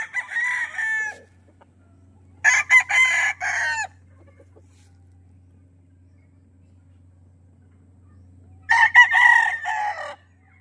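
Roosters crow loudly and close at a game farm in Bauang, La Union, with several separate calls: one at the start, a strong burst mid-way and another near the end, separated by near silence and a faint low hum.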